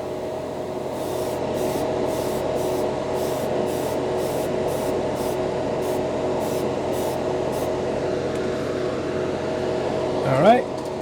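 Airbrush hiss as Mr. Hobby Acrysion Cream Yellow acrylic paint is sprayed in a light coat over a primed spoon, a steady close spray under a droning compressor hum with brief pulses, a short squeak near the end.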